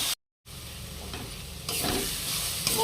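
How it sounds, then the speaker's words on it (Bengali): Boal fish curry with spices frying in oil as it is stirred in a pan, a steady close sizzle and hiss that swells louder partway through after a brief silent break near the start. "মশলা খুব ভালোভাবে কষানো হয়ে গেছে"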